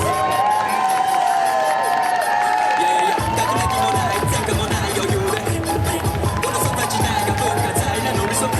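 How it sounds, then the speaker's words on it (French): An audience at a cosplay festival parade in Châlons applauds a group of Star Wars cosplayers, producing dense, sustained clapping and cheering that stays loud the whole time. "Je veux que vous les applaudissiez très très fort."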